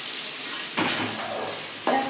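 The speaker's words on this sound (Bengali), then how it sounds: "একটু ভাজা ভাজা হচ্ছে" Steady crackling sizzle of egg and cabbage frying in a pan, with a couple of louder bursts as ingredients are stirred or added.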